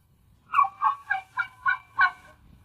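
Turkeys on a forest homestead give six evenly spaced, loud gobbling calls up close, one of them a red bird, with no talking.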